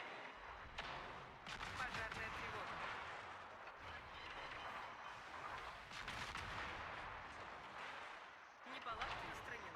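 Heavy naval guns from a warship game, including the Otago's batteries, fire in rolling booming volleys, a dense and continuous barrage of blasts with scattered louder impacts throughout.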